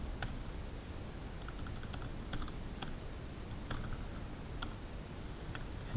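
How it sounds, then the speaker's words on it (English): Someone types on a computer keyboard, producing irregular bursts of crisp key clicks. The taps come in uneven clusters over a quiet background hiss, close but fairly soft, with no talking. "What am I typing wrong?"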